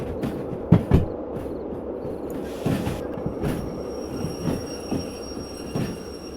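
A freight train rolls along the track in Derail Valley Simulator, with a steady low rumble and repeated clacking wheel thumps and faint squeals at irregular intervals, no talking.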